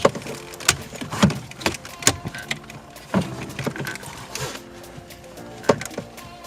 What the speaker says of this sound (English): You're going to want to line up all your clips and then push in on all the corners.